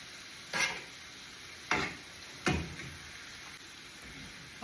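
Shepherd's pie filling is tossed in a frying pan over a steady sizzle, with three distinct scraping, clattering tosses spaced a second or so apart and no talk.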